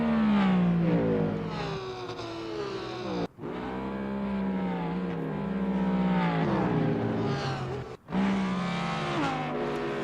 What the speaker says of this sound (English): The BMW is not only a good looking car, Joker, it's also a good sounding car.